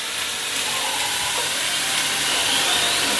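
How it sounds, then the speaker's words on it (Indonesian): Tofu fries in a pan with a constant, bright sizzle and hiss of hot oil, loud and close, with no voices over it. "Wis tak goreng no tahu."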